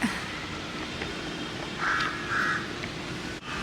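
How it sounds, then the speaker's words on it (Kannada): Two short tonal calls of an Asian koel, fairly distant, ring out over a steady wash of outdoor background noise. "ಕಾಗೆ ಅಲ್ಲ ಅದು ಕೋಗಿಲೆ ಆಯಿತಾ"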